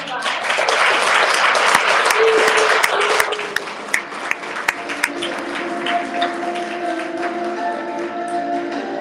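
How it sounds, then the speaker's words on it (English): Audience applause at a peace march event swells as dense, loud clapping, then thins into scattered individual claps as it fades, with a voice speaking underneath toward the end. "Give a round of applause."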